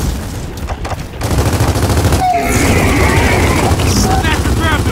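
Heavy gunfire and booms from the Gears of War 4 video game on Xbox One X crackle in loud, dense bursts, with a player's excited shouting over the top.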